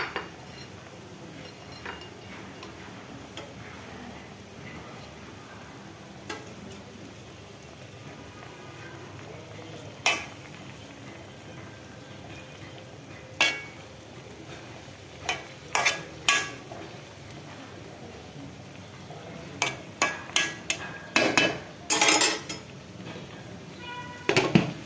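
Aloo bhaji, a potato dish with green chillies and coriander leaves, sizzles faintly in a pan while a metal spoon scrapes and clinks against it in scattered bursts that grow busier toward the end.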